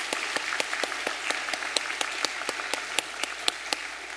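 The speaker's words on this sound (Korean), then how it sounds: "함께 박수로 환영하겠습니다." A church congregation claps to welcome new members during a Sunday service, a fairly soft spread of applause punctuated by regular, distinct claps keeping a steady beat near the listener.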